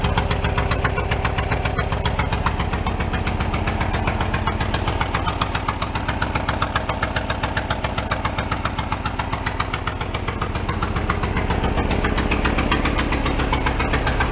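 The engine of an abandoned Porsche 914 station wagon runs loud and close, a steady rough idle with a rapid pulsing beat throughout and no talk over it.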